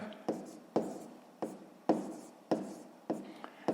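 Pen scratching across paper in repeated strokes during a sixth-grade math exercise, about seven short scrapes at a steady rhythm, close and fairly quiet.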